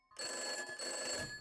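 A telephone rings in Lucius 2, one loud electronic bell trill heard close and alone, a bright warbling ring that briefly dips midway before continuing.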